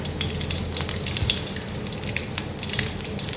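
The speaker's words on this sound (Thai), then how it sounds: "ทอดสามครั้งค่ะ" Water spinach fritters deep-frying in hot oil, giving a dense, steady sizzle with scattered crackles and pops, close and unbroken throughout.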